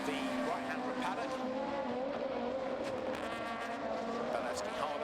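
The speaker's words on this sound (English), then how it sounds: "the cars now accelerate their way up to" Super 1600 race cars accelerate on a track in a steady, loud engine drone with rising and falling tones. It sounds like several cars close together, and a commentator talks over them.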